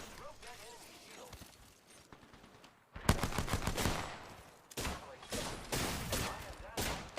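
Video game gunfire: scattered shots under a person talking, then a louder burst of rapid, machine-gun-like firing that continues in bursts toward the end.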